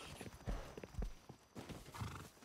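Horse hooves clip-clop in a video game, a quick uneven run of hollow thuds close by over a busy background, with a whinny-like burst partway through.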